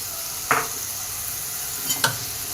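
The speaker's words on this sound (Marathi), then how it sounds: "आता हे छान परतून घेऊ आपण" Vegetables sauté in a pan for Marwari-style khichdi, giving a soft, steady sizzle close by, with two sharp scraping stirs a moment apart and no voices.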